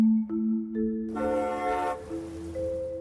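A loud car horn blares in steady sustained honks on a dark road, the tone shifting pitch across several blasts with no talking over it.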